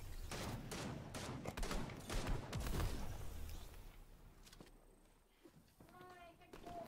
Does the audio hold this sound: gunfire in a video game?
yes